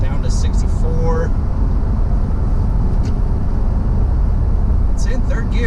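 A fifth-generation Toyota 4Runner with Fox 2.5 suspension, towing with the throttle floored in third gear, gives a steady loud engine drone and road roar, continuous and unbroken, with faint scattered higher sounds above it.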